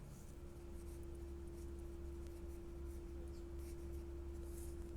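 A pen or marker scratches out writing during a Class 9 geometry lesson on triangles, faint and close, with a steady electrical hum in the background and no speech.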